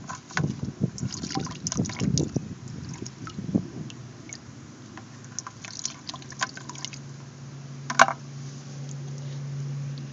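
Water draining from lowered hoses in a hydroponic setup, a continuous trickling and dribbling flow with gurgles, heavier at first, then settling into a steadier stream with one sharp knock.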